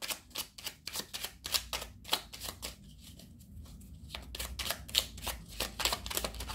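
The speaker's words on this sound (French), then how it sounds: "je prends le petit oracle des guidances étoilées et on prend deux cartes" Oracle cards are shuffled and drawn by hand, giving a run of crisp, rapid riffling flicks and soft slaps up close, with a brief quieter pause midway before the card sounds pick up again.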